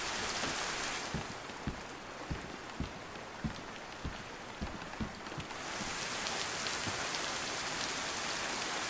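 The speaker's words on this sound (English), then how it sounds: "All I can hear is the rain." Rain pours steadily in the survival game DayZ, a constant hiss of drops on surfaces with a series of soft low thumps or footsteps underneath, fairly faint and without talk.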